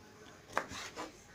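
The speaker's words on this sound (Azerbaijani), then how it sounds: "İlk öncə bu lobyaları mən indi balaca-balaca doğrayacam." Knife chopping green beans on a cutting board for a bean salad, a few quiet single cuts with a brief sharp knock, close and faint.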